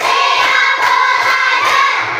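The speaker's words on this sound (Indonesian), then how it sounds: "tepuk 1, tepuk 2, tepuk 3, tepuk 4, tepuk 5" A classroom of fourth-grade pupils claps together in a steady counted rhythm, a continuous bright patter of many hands with regular pulses, loud and close with no talk over it.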